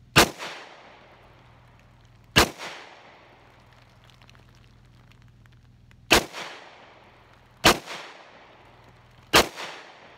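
AR-308 rifle fired outdoors, five loud sharp shots at uneven intervals, each with a short decaying echo, and a low steady hum between shots.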